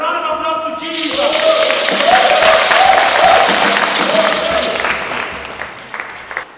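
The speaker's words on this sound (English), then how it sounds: "A round of applause to Jesus." A church congregation bursts into loud, sustained applause with scattered cheers and whoops, swelling after a brief moment of quieter sound and then tapering off toward the end.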